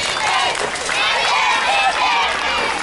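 Crowd of fans cheering and shouting at a women's baseball game in the final inning, a steady loud roar of voices with whistling and rising calls throughout.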